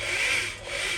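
A two-stone cylinder bore hone scrapes inside an engine cylinder, driven by a low-speed, high-torque drill, giving a close, continuous abrasive rasp that swells and dips briefly.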